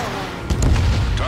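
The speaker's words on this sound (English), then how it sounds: "Missile fired." In the Ace Combat 7 video game, a missile launches and strikes its target, a short loud booming burst with a rushing tail heard close.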